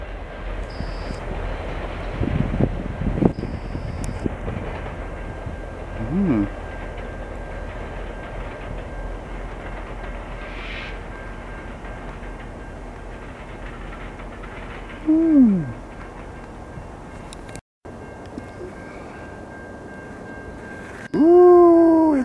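A VIA Rail train with dual engine power passes in Montreal in winter. It gives a continuous low rumble, with brief rising tonal squeals and a loud harmonic burst near the end.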